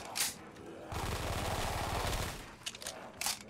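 An MP5 fires in Black Ops 3 Zombies, giving rapid sustained automatic bursts with sharp single shots before and after, loud and close.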